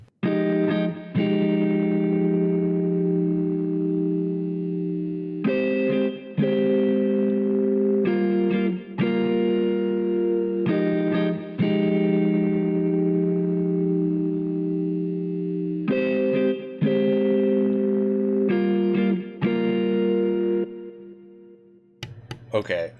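A pad-like guitar soaked in effects plays a chill beat: sustained, reverb-washed chords repeat in a steady loop of swelling phrases with brief gaps, then thin out and trail off near the end.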